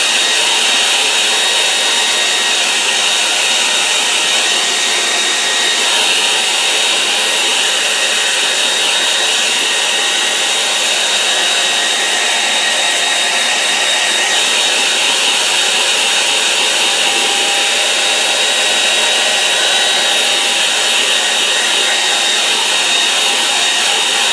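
Hair dryer blowing on a watercolour painting of a river landscape, a loud, steady whooshing roar that runs unbroken and alone, with no talking.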